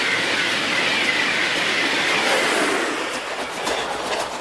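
A train runs on rails, a loud continuous rushing roar of wheels and carriages with a faint rhythmic clatter, steady throughout and slightly easing toward the end.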